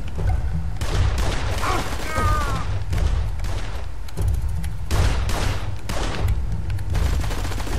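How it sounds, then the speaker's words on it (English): Repeated gunfire in the game Blues and Bullets, with loud, close shots cracking out in irregular clusters over a heavy, constant low rumble. "I wasn't expecting more shooting"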